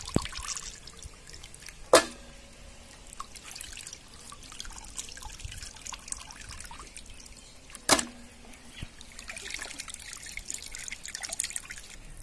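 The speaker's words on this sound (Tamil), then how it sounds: "நல்லா கறியை சுத்தமாக நல்லா அலசிக்கணும்." Chicken pieces being rinsed in water for a pakora recipe, a quiet continuous trickle and slosh with two sharp clatters near the start and middle, no voices.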